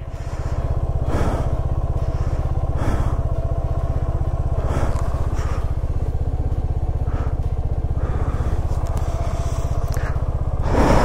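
A motorcycle engine thrums loudly and continuously while riding an icy winter road in Spiti, with the rough pulsing exhaust close by and occasional clattering bumps over the frozen surface.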